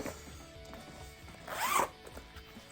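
A zipper on black leather boots with inside zips is drawn in one quick rasping pull, loudest in a short burst near the middle, set against faint background rustle.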